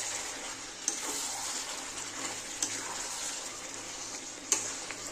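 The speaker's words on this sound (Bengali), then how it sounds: "আবার একটু নেড়ে দিচ্ছি। আবার একটু নেড়ে দেব।" Bengali-style mutton kosha sizzles steadily in a pan while a spoon stirs it, a continuous hissing fry broken by three sharp scraping knocks of the utensil against the pan.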